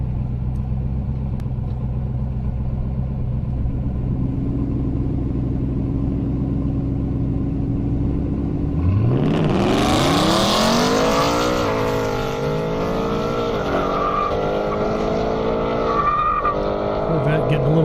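Drag race at an Indy airstrip between a Ford Mustang GT and a C5 Corvette: low engine drone at idle, then a loud launch with rising revs, tire squeal and roaring acceleration climbing through gears, under continuous commentary.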